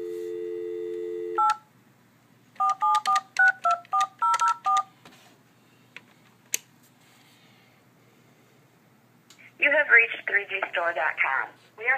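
Telephone touch-tone dialing on a phone connected through a Pepwave Surf WiFi-to-Ethernet bridge: a steady tone cuts off, then a run of about eight crisp separate beeps sounds in quick succession, with a recorded voice answering later.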